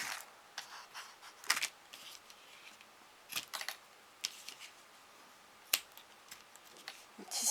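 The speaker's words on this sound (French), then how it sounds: "Un petit ciseau d'écolier là" Small children's school scissors being handled and snipped, giving a series of scattered light metallic clicks and ticks at close range, with no talking.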